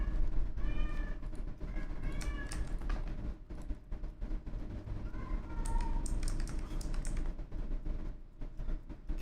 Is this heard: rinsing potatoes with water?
no